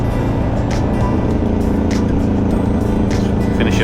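A Suzuki DRZ400 motorcycle rides along a rural road from Oxford, Alabama toward Mount Cheaha, with a steady, close engine drone and constant wind rumble throughout and no talking.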